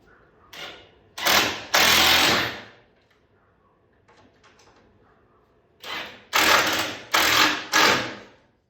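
A drill drives 2-inch drywall screws through epoxy into a wooden boat keelson, two close whining bursts early on, a quiet gap with faint handling sounds, then three more quick bursts near the end.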